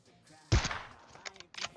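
A sniper rifle in PUBG Mobile fires one sharp, loud shot, followed by a few fainter, scattered reports in the distance.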